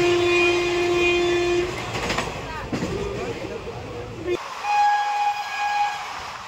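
Passenger train running from Digha toward Bandel Junction, with a loud sustained horn blast, then rumbling carriage noise and clatter, a sudden drop, and another long horn sounding near.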